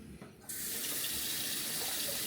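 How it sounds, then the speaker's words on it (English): Hot water gushes from a sink tap after a short pause, a steady close hiss of running water that holds to the end. "I usually fill it about halfway with hot water"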